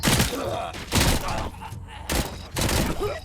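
Automatic gunfire from a machine gun in the video game Robocop Rogue City, loud and sustained in repeated bursts of about half a second, with short gaps and game sounds filling the spaces between.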